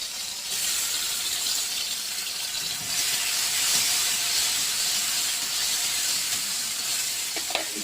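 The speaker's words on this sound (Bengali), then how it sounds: "সেগুলো দেওয়ার পর টমেটো কাটা ছিল সেগুলো দিয়ে দিলাম।" Chopped tomatoes and garlic fry in a pan with a steady, close hissing sizzle, and a faint clink of a utensil comes near the end.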